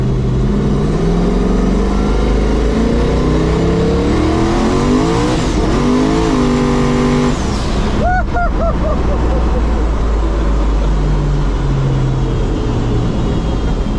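A loud turbocharged engine in a 1500hp S10 pickup revving hard and accelerating up close, with a rising turbo whine as the turbos spool and roaring exhaust that keeps building.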